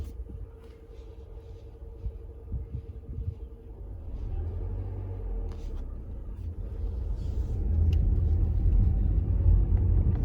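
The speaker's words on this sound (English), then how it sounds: "Drop the handbrake, put it in first gear, and it's a balancing act." A car's engine runs steadily while being driven with a manual transmission, a low rumble that grows louder and heavier toward the end, with faint background noise and no clear speech.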